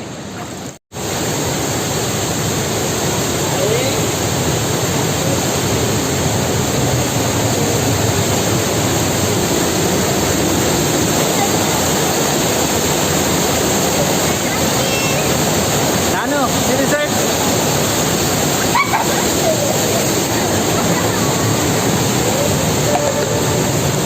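Rushing water roars at Hogenakkal Falls, a dense, continuous wash of sound that stays loud and steady for the whole stretch, with brief dips and faint background noise now and then.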